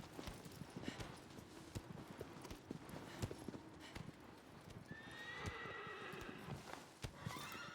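Hooves clip-clop steadily in the video game Shadow of the Colossus as a horse trots along, close and even-paced, then the horse whinnies near the end over a soft game backdrop.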